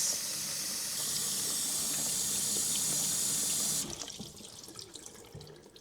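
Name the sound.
rinsing elderberries in a strainer with filtered water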